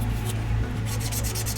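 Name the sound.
sanding UV putty on a 3D printed kit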